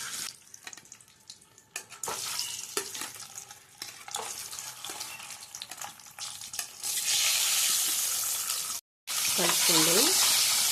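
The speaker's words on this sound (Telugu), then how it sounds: "ముందుగా అయితే ఎగ్స్ని వేపించుకుందాము." Eggs fry in oil with turmeric in a kadai, first with intermittent stirring clatter and light crackle, then swelling into a loud, bright, continuous sizzle near the end, with a brief gap and a short faint voice.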